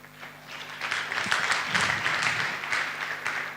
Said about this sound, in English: I would like to request even the participant to clap their hand for your good presentation.